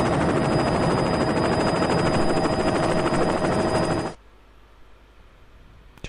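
A loud, steady helicopter rotor drone in an educational video game runs for about four seconds, then cuts off abruptly to near silence, with no talk over it.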